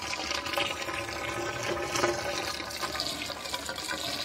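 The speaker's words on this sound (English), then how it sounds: "And then we introduce the water" Water being run into the pipe of an IBC biogas tank during a soap-test pressure check, a steady rushing, splashing flow that continues throughout, fairly close and with no speech.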